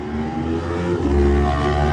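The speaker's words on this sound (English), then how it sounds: "the flag will drop now, and it does for Daniel Cooper on the Kawasaki" A Kawasaki lightweight race motorcycle pulls away from the Isle of Man TT start line, its engine roaring loud and close as it revs and accelerates steadily, with no voices.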